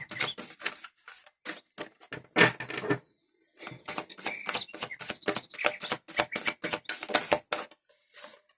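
Oracle cards are shuffled for a tarot-style reading, a rapid run of crisp, papery riffles and flicks heard up close, with a brief pause midway before the quick rhythmic snapping resumes.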